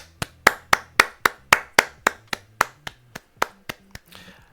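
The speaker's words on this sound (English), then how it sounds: "I do want to start this video with a round of applause" A single person claps about fifteen sharp, evenly spaced times close by, the claps fading slightly toward the end, followed by a brief rustle.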